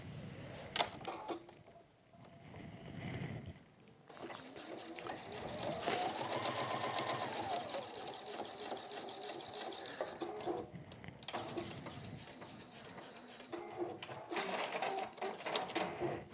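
A sewing machine runs in bursts of straight stitching on fabric for a hexagon needle keep, its rapid mechanical whirr rising and pausing, with a voice talking intermittently over it.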